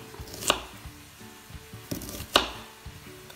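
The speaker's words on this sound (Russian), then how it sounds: "Теперь нарезаем следом репчатый лук." A knife chopping onion on a cutting board gives a few sparse, close cuts with two sharper knocks, set against quiet kitchen background.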